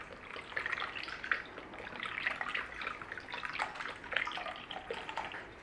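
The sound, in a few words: almond milk being poured into a pan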